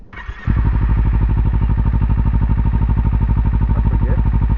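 A Kawasaki Ninja 300 fitted with an Akrapovič slip-on exhaust starts up and settles into a loud, steady idle with an even, rapid pulsing thump, heard close and alone.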